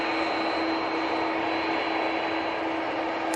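A jet airliner departing Manchester Airport for Brussels, a constant loud engine roar with a steady whining tone, heard alone without speech.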